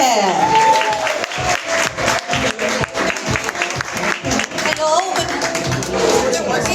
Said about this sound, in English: Please clap your hands for none other than Ms. Charisse Aquino Tugade.